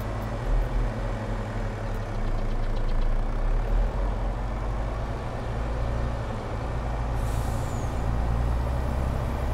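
A truck engine idles in Farming Simulator 22 with a steady low rumble, loud and close, and a short hiss of air brakes near the end.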